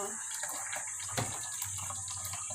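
Water running from a tap into a plastic gallon container, a steady rushing, splashing stream with a bright hiss that stays constant, plus a few faint knocks and background voices.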